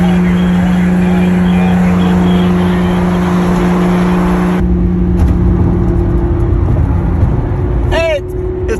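Steady engine drone from inside a sand-colored Lamborghini, a loud continuous hum and rumble that holds throughout, with the tone shifting partway through and people talking over it.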